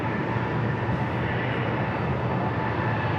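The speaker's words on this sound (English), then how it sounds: "Alaska flight heading to Seattle, flight 622," An Alaska Airlines Boeing 737-900ER jet at San Diego airport gives a steady, loud broadband engine roar that holds constant throughout with no voices.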